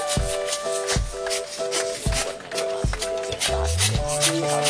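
A manual pump works a failed, dry borehole well, giving a steady rhythm of about five heavy thumping strokes with clanks between them, close up and with no one talking.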